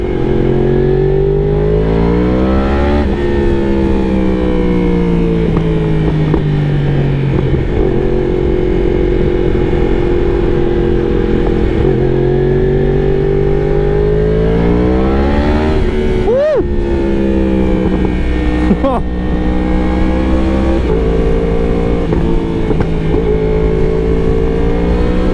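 Yamaha R1 sport motorcycle fitted with an extended swingarm, ridden in Sydney: a loud, close engine drone that rises and falls through repeated revs and gear changes, running steadily across the whole stretch with no talking.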